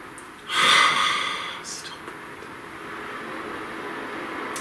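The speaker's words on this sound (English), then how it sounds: "please take a nice deep breath." During a guided breathing exercise, one deep, audible breath rushes in and then trails off, leaving a quiet, hissy background.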